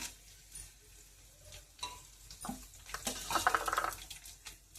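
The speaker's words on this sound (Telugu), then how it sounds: "కొంచెం శనగపప్పు కూడా వేస్తున్నాను. మూడు ఎండుమిర్చి కూడా గిల్లేసి వేసేస్తున్నాను." Dried red chillies and chana dal sizzling and crackling in hot oil in a pan, with stirring scrapes and a brighter burst of sputtering midway, fairly close and moderate in level, no talking.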